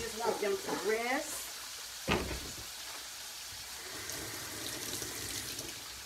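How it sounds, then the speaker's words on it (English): A pork chop sears in a hot pan with a faint, steady sizzle, mostly beneath a person talking at the start and then heard more on its own later. "When you're searing your pork chop"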